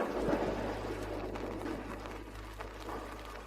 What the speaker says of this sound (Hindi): बाहर मूसलाधार बारिश हो रही है